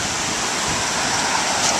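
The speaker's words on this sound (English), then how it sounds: "This is the spillway area." Water after a hard rain rushes over the spillway at Broadway Lake, a steady, dense roar with no voices heard.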